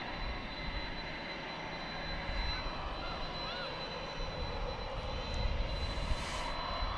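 An Envoy jet departs DFW airport at night, its engine roar a steady, broad rumble that swells slightly toward the end, with faint speech mixed underneath.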